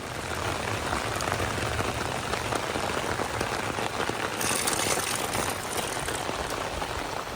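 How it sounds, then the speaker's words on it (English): Light evening rain falls steadily at a riverside beach campsite in North Georgia, an even, close hiss of drops pattering on surfaces that continues throughout, with no talking. "the rain's starting to come down a little more today"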